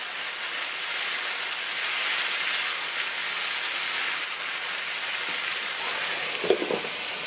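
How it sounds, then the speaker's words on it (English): Enchilada roja sauce simmering in a pan makes a steady, even sizzle with a faint hiss. Near the end a brief stir or clink stands out, close by and moderately quiet. "let's go ahead and give this thing a stir"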